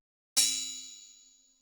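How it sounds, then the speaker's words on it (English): A single synth note from a wavetable built from a steel sample, struck once with a bright metallic clang that rings on and slowly decays, alone. "This next sample is a sample of steel."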